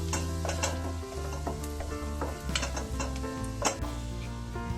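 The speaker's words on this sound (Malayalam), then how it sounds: "ഇതൊരു ലൈറ്റ് ബ്രൗൺ ആവുന്നത് വരെ ഒന്ന് സോട്ട് ചെയ്ത് കൊടുക്കാം." Chopped garlic sautéing in a pan for white sauce pasta, a bright continuous sizzle up close with intermittent stirring scrapes and utensil taps, no voices.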